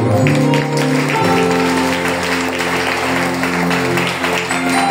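A church congregation applauds during a worship service in a loud, continuous wash of clapping, with sustained musical tones and voices layered beneath it throughout.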